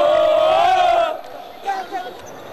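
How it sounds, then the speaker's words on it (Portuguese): Basketball crowd at a Liga das Américas game in Bauru giving a loud, high-pitched cheer that holds for about a second, then drops away abruptly into quieter scattered voices and arena noise. "Larry Taylor fez a festa da torcida."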